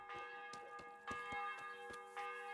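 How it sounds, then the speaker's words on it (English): A church bell in the video game Kingdom Come: Deliverance tolls again and again in an even rhythm, each strike ringing out clearly with a bright metallic tone, no voices present. "And stop ringing that damn bell."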